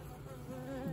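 Honeybees buzz at an apiary with a steady, soft hum that swells slightly toward the end of a very short stretch.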